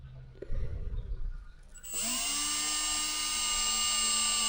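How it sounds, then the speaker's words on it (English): A power drill on slow speed whines up to a steady high-pitched spin after some brief handling noises, drilling holes while installing a cargo net, close and loud, running continuously without speech. "make sure your drill speed is on slow so you don't have any wild rides"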